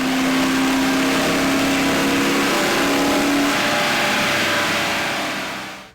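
A 1995 Ford F150 engine revs hard on a dyno, a loud, rising, sustained roar that suddenly cuts off at the end.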